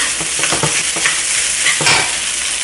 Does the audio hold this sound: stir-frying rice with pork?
yes